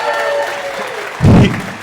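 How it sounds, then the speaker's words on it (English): An audience breaks into a short, loud burst of cheering and applause that swells abruptly and fades within about half a second, following a quieter stretch. "Cheer."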